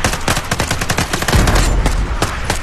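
Rapid bursts of automatic gunfire in a video game crackle loudly and continuously, with dense overlapping shots and no talking.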